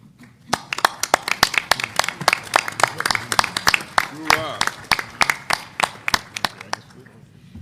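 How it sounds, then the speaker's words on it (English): At a military professional forum, a modest audience gives a round of applause: crisp, distinct handclaps in a quick irregular rhythm that taper off after several seconds, with a brief voice heard midway. "let's give these members a round of applause"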